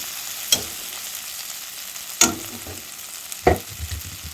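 Potatoes frying in a pan for dry fish curry, with three separate bursts of stirring scrapes over a steady, soft sizzle close by.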